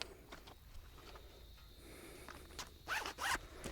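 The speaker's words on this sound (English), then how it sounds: "oh, zipper." A clothing zipper is pulled in two quick, close, crisp bursts near the end, after a few seconds of quiet rustling.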